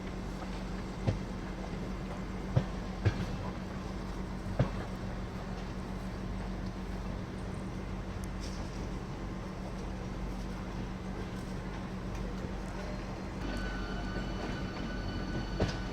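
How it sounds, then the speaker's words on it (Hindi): A passenger train on the Howrah line rolls along the rails in a continuous low rumble, with occasional sharp clicks from the wheels and a faint squeal toward the end. "ये शंटिंग नहीं हो रही है, ये तो कोई ट्रेन है जिसमें पैसेंजर्स बैठे हुए हैं।"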